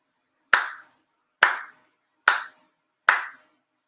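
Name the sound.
ritual hand claps at Shinto ceremony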